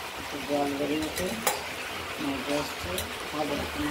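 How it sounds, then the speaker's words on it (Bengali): Mixed vegetable curry of potato, pumpkin, ridge gourd, pointed gourd, taro and drumstick stems cooking in a pan, giving a soft continuous sizzle with a few light stirring touches. "তরকারিটা ধীরে ধীরে মজছে"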